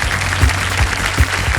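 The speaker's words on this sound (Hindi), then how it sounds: "जोरदार तालियों के साथ इनका स्वागत किया जाए" Clapping from a studio audience welcoming contestants on a Hindi quiz show, a dense, even patter of many hands over a low hum, with a few thumps mixed in.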